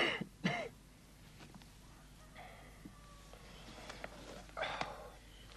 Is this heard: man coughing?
yes